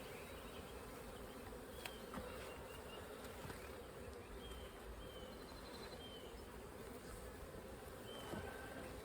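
Honeybees buzz steadily during an urban beehive inspection at an apiary, forming a continuous close hum of many insects with faint individual bees passing through and no talk.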